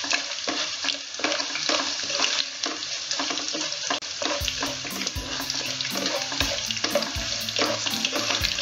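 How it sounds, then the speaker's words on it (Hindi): Spices crackle and sizzle steadily in hot oil as a tempering for upma, with faint clinks and stirring sounds, and a soft rhythmic pulsing joins partway through. "तो देखिए हमारा तड़का अच्छे से रेडी हो गया है।"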